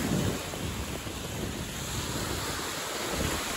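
Waves wash against the Lake Champlain shore under strong gusting wind that buffets the microphone, a constant roaring rush with no voices.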